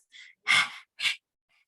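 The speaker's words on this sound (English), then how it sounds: "do it through your throat, panting like a dog, like this" Three quick breaths of fire are pushed out through an open mouth in a throat-driven pant, the middle exhale loudest, the breaths close and alone in quiet with short pauses between.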